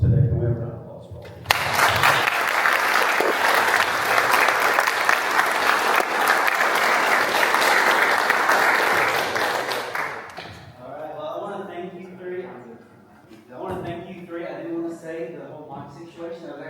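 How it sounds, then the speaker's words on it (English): A seated audience of debate attendees at the University of Kentucky bursts into loud, dense applause for state legislators, sustained for about eight seconds before fading out as talk resumes. "Can we have an applause for them?"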